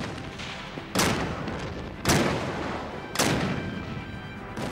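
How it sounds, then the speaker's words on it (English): Three heavy cannon blasts from an ironclad warship in a battle recreation, each a sharp loud boom spaced about a second apart and trailing off into a rumbling decay. "The Virginia immediately opened fire."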